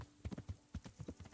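A horse in Kingdom Come: Deliverance clip-clops along at a steady walking rhythm, the hoofbeats soft and fairly distant.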